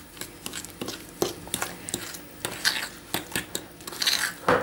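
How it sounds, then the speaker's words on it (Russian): Lazy vareniki dough with semolina stirred in a bowl, producing close scraping and knocking of a spoon against the bowl in irregular strokes. "И перемешиваем."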